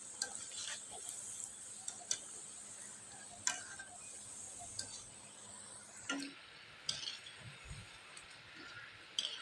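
Langcha sweets made from milk powder and semolina fry quietly in oil, a soft low sizzle broken by scattered clicks and taps of a utensil against the pan, faint and close.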